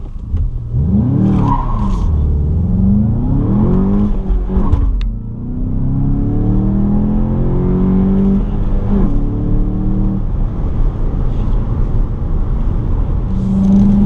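A 2020 Volkswagen Jetta GLI engine revs hard accelerating 0 to 60, climbing through the gears, pitch sweeping upward with brief dips at each shift, loud and close throughout.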